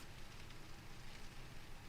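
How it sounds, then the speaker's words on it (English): Simulated rain pouring down on an airliner in Microsoft Flight Simulator, a steady dense hiss of drops with no breaks, soft and even throughout. "And you can hear the rain pouring down."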